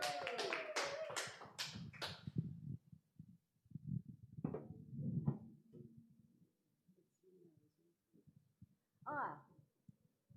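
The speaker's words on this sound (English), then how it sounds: "Can we get some clicks, please? And some claps." An audience at a spoken-word poetry festival gives a burst of claps and finger clicks, a quick run of sharp taps at the start followed by scattered lighter clicks and murmurs, with some faint voices.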